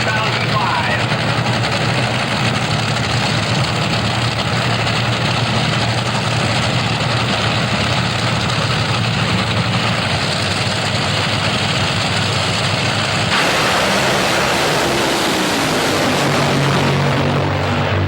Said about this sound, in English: Let's watch what 454 looks like from the cockpit of Clay Millican's Top Fuel Dragster